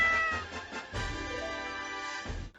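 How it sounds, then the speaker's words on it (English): A tamed cat in the video game Minecraft meows a few times in clear, close succession, with no other sounds. "Once I arrived, I tamed a cat."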